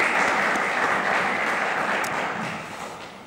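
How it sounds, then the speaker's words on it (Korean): A church congregation at Sunday worship in Rome applauds the Gloria choir, a thick, even roar of many hands clapping together that holds steady and then gradually fades away. "성가대원들에게 격려 박수 한번 보내드리도록 하겠습니다"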